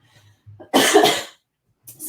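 A single loud, harsh cough bursts out close by, preceded by faint breathy throat noises and followed by a short pause before more sound.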